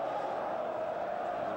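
Rangers supporters who travelled to a freezing cold night match against Dortmund keep up a steady, distant stadium roar, a continuous crowd hum of cheering and chanting.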